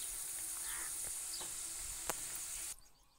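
Onion bhaji frying in hot oil on a high flame, a dense steady sizzle with a few faint clicks, then the hiss suddenly drops away near the end.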